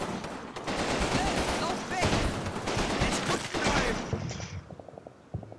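Gunfire in the Combat Mission video game: dense bursts of rifle and machine-gun shots crackle continuously, loud and layered, before cutting off abruptly near the end.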